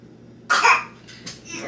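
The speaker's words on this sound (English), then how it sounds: "She's had a little bit of cough." A child coughs once, a short sharp burst followed by a couple of fainter breathy after-sounds, close to the microphone in a quiet room.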